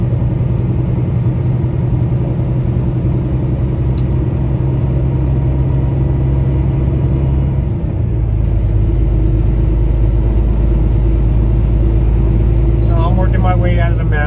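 Heavy truck engine fitted with weed burner mufflers and no stacks, rumbling steadily up close on a winding mountain road, a deep continuous drone that grows slightly louder and fuller partway through.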